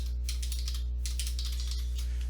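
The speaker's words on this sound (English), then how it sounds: "Let me just type that in," Someone types steadily on a computer keyboard, a close run of quick clicky keystrokes over a constant low electrical hum, with no talking.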